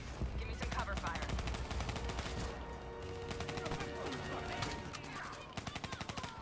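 Cover gunfire in Call of Duty Black Ops 3 sounds as dense bursts of rapid automatic fire with scattered shots, loud and continuous, mixed with game effects and voices.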